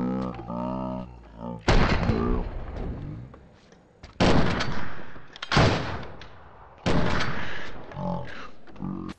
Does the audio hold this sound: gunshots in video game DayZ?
yes